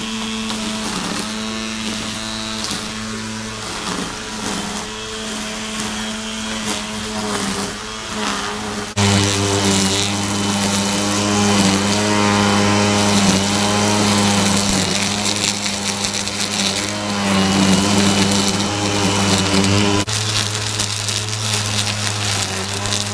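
A Kobalt 24V brushless battery string trimmer whines continuously as it cuts weeds outdoors, a steady high electric motor hum that rises in pitch and grows louder partway through and then stays close and constant.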